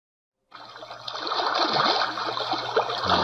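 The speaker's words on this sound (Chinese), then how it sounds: "我们先玩一下，一开始听到的就是这个水声啊" Synthesized water from an Atmos object synthesizer sound-design tool, starting abruptly after silence as a continuous trickling, gurgling stream that grows slightly fuller and holds steady, close and clear with no voices.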